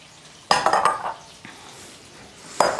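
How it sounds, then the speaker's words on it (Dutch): A bowl is pulled from among kitchen dishes in a home kitchen where a salad is being made, giving two bursts of clattering, clinking crockery, the first longer and the second brief, with quieter handling between them. "En ik pak er even een kom bij waar we de salade in gaan maken vandaag."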